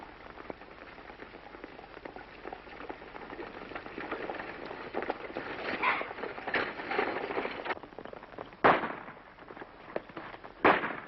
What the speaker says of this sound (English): Wonder what all the shooting's about.